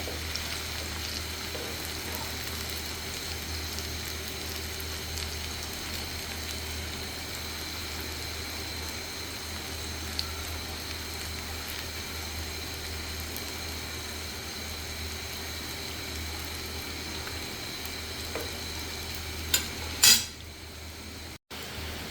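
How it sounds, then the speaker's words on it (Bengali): Noodle pakoras frying in oil, a low steady bubbling hiss running throughout, with a couple of sharp utensil clinks near the end. "এই যে আমার নুডলসের পকোড়াগুলো ভাজা হয়ে গিয়েছে"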